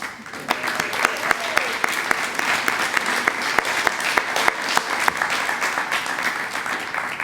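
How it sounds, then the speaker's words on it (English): Applause at an all-class reunion gala: a dense, steady crowd clapping that carries on for several seconds with scattered sharper claps on top. "So please raise your hands and we will give you a round of applause."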